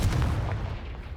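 Confringo blasting spell cast in Hogwarts Legacy, a short, heavy boom with a deep low rumble lasting about a second, loud and up close.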